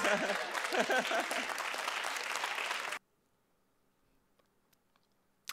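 An audience at a live nail-art reaction show applauds steadily for about three seconds, dense clapping that then cuts abruptly to near silence with a few faint clicks.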